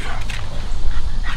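An American Pit Bull Terrier puppy in drive training makes short, excited barks and whimpers close by, repeated in quick bursts over a rough, noisy outdoor background.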